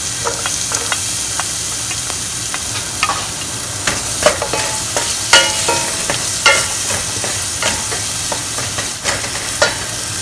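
Garlic sizzling in hot oil in a wok alongside ginger, a steady bright frying hiss broken by repeated sharp clanks and scrapes of a spatula stirring, close and loud with no talk.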